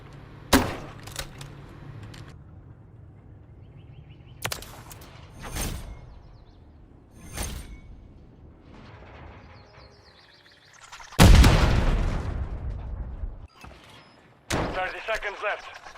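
Spawn tube fired mid-jump in Modern Warfare III on the Quarry map: sharp, loud broadband bursts of in-game shots and launch blasts, spaced irregularly across the clip, one heavy sustained blast near the end.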